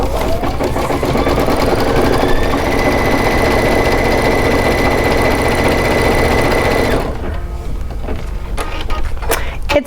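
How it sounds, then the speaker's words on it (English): Kimberbell embroidery machine stitching diagonal lines, a loud steady mechanical whir with a rapid needle rhythm running for about seven seconds before stopping, leaving faint clicks and handling noises. "It's going to sew several diagonal lines, and it's also going to sew a basting stitch around the outside of the heart"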